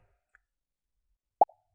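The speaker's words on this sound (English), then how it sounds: "play the sound pop until that sound is done" A single short, crisp pop from a Scratch project as a balloon sprite vanishes, sharp and isolated against near silence, with a faint tick just before it.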